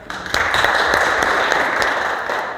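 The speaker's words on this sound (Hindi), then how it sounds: "हमारे स्टोर इंचार्ज साहब के लिए एक बार जोरदार तालियां" An audience at a workplace safety day program bursts into loud, sustained applause. Many hands clap together for a couple of seconds, then the sound tapers slightly.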